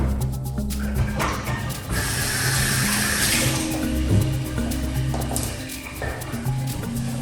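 Strained homemade detox drink being poured off, a steady stream of liquid splashing into a container with some background clatter, running continuously and fairly close.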